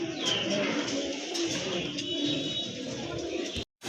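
Pigeons, local and foreign breeds kept for sale, coo in a soft, continuous, overlapping murmur at close range, with faint background voices.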